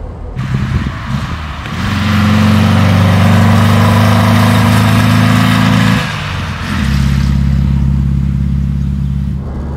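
A 1961 Porsche 356 B T6 Hardtop Coupé's rear-mounted engine hums and rises in revs while driving on mountain roads, a loud steady drone that climbs, drops, then pulls again, no talk.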